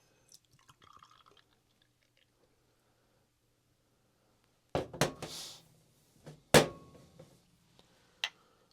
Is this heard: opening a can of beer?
yes